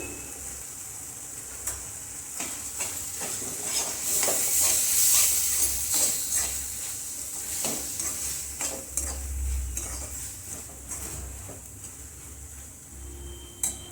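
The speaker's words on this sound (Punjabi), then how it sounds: "ਇੱਥੇ ਮੈਂ ਲਿਆ ਸੀ ਔਰਗਨ ਦਾ ਪੈਕਟ ਉਹਨੂੰ ਪਾ ਦਵਾਂਗੇ ਆਪਾਂ ਮਿਕਸ ਕਰ ਦਵਾਂਗੇ" A spoon stirs oregano through a sauce in a pan for pasta, scraping and clicking in uneven strokes over a continuous sizzle, fairly close and with no voices.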